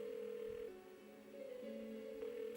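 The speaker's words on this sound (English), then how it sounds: "Why won't she pick up the phone?" A phone in Persona 4 rings without being answered, a repeating electronic tone pattern held under game background sound, soft and steady.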